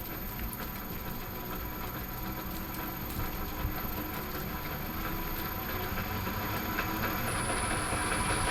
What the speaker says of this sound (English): Why is it being noisy? Because I've got all those gears running.